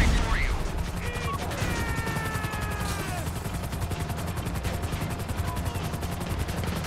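Rapid automatic gunfire rattles continuously in GTA 5 Online during a Humane Labs raid, dense and loud throughout, with faint helicopter-like tones and game noise mixed in.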